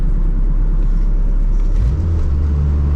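A Honda K24-powered car accelerates in second gear, a loud, close engine roar with a low rumble that deepens and shifts in tone partway through, no talking.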